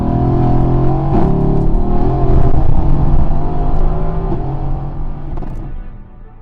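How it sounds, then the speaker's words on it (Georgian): A 690 hp Mercedes-AMG GT accelerating hard in an acceleration test, loud close engine roar rising through gear changes, then fading away toward the end. "დავიწყოთ უკვე ჩვენი მანქანის აჩქარების ტესტები"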